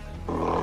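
A tiger lets out a single loud, sustained roar that bursts in after a brief quieter lead-in and holds to the end, close and powerful.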